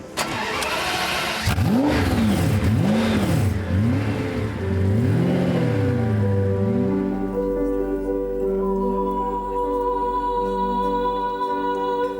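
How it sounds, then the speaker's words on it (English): A Pagani Zonda supercar driven hard, its engine revving up and down in several sweeping surges before settling into a steady, loud drone at high speed. "Before I get to push this Zonda hard for the first time"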